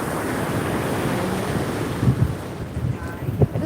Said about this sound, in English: Waves are slowly starting to pick up